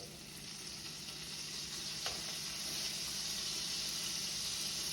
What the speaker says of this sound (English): I already have olive oil and about 2 tablespoons of butter melting in the pan, getting nice and combined